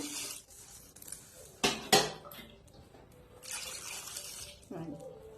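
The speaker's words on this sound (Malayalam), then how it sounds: "അതിലേക്ക് അത് വേവാൻ ആവശ്യമായ വെള്ളം കൂടി ഒഴിച്ചു കൊടുത്തിട്ട്" Water poured into a pan of Chinese potatoes, heard as splashing and pouring with a couple of sharp metallic clanks of the pot and utensils, fairly quiet with soft kitchen clatter around it.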